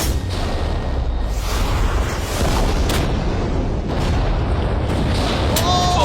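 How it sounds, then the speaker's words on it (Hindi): A heavy, rumbling blast roars with dense, sustained noise, followed by continuing booming turbulence, loud and close, with no voices. "ये एक बहुत ही बड़ा धमाका होने वाला है।"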